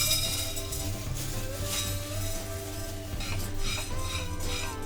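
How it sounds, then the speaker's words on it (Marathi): Whole black peppercorns dry-roasting in a pan for traditional Malvani masala, a steady close clatter and rustle of stirring against the pan with faint sizzle throughout. "आता मिरी भाजून घ्यायची"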